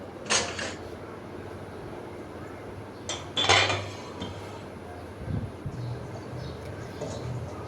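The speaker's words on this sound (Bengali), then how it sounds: "আর তো রাতের ধোয়া থালাবাটিগুলো এখন গুছিয়ে নিব।" Washed steel dishes and bowls are stacked away in a home kitchen, giving two sharp metallic clatters and a few softer clinks and knocks, close and fairly quiet, with no talking.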